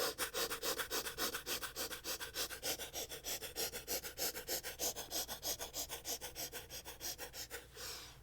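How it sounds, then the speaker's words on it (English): Rapid, rhythmic breaths forced in and out through the nose during a yoga power flow, about twenty-five quick even pulses in a steady train, close and fairly quiet, with no talking over them. "we'll try 25 rapid breaths through the nose"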